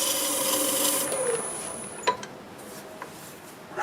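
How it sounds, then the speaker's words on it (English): A Scotch-Brite pad buffing the finish on a turned black locust piece, giving a soft, steady rubbing rasp that fades out halfway, followed by a few faint light taps, close and quiet. "I'm going to take this Scotch-Brite, I'm going to buff this out"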